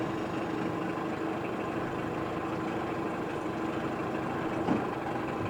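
A 1989 Mercury 15hp manual-start tiller outboard boat motor idles steadily at close range, a low, even putter with a faint tonal hum, holding constant throughout with a brief bump near the end.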